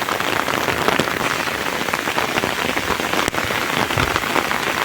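Rain pours steadily over a Bangladeshi village, a dense, even hiss of drops striking surfaces that holds close and loud throughout with no voices.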